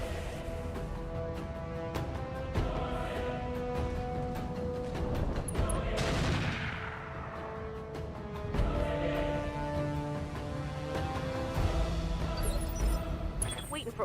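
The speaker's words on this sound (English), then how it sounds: "I love the sound file for the autocannons and ghost rifles now." In the BattleTech game, autocannons and gauss rifles fire in repeated heavy booming and cracking shots with metallic impacts. Someone talks over the battle sounds and music most of the time.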